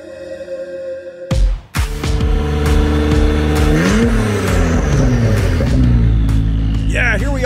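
Acura NSX at a tuning shop, engine firing up abruptly and then holding a loud, steady rev with a rising and falling tone, close by and dominating throughout.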